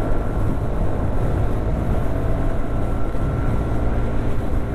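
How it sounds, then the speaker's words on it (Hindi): A TVS NTorq 125 scooter runs at full throttle on a night ride, a continuous droning engine roar mixed with heavy wind rush, steady and unbroken throughout. "एक्सलेटर तो फुल कर दिया"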